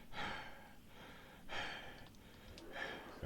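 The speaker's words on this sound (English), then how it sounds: "I should do my deep breathing again" Close, deep breaths from one person, three long airy inhale-exhale cycles at a slow, even pace, quiet and without speech.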